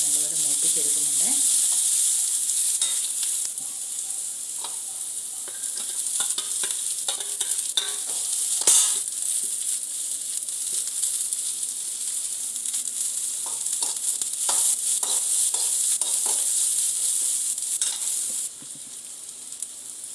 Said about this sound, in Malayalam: ആ കൂടെ തന്നെ നമ്മൾ ഇവിടെ ചതച്ച് വെച്ച വെളുത്തുള്ളി, ഇഞ്ചി, സവോള, പച്ചമുളക് എല്ലാം ഇട്ട് നല്ലപോലെ മൂപ്പിച്ചെടുക്കുന്നുണ്ട്